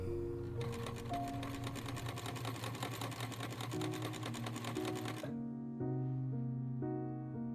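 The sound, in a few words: sewing machine stitching velvet bib front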